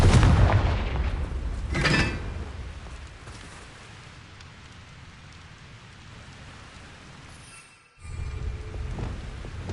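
Bombarda and Confringo spell blasts in a Hogwarts video game give two sharp explosive bursts, then a long crackling, rain-like hiss that cuts out briefly and returns.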